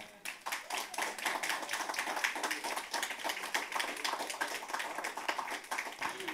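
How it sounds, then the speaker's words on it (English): A church congregation claps for God after a closing prayer, a steady, dense burst of many hands clapping together that carries on for several seconds, close and fairly loud. "Give God a hand clap."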